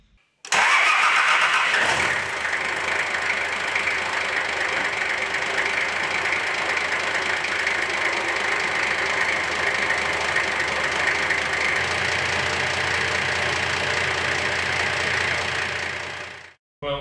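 A Nissan Patrol TD42 diesel engine cranks briefly, catches and settles into a loud, steady clattering idle up close, running for about fifteen seconds before shutting off.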